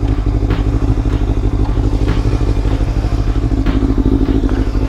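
A motorcycle engine idles in neutral, close and loud, with a steady, even rumble and slight mechanical clatter throughout.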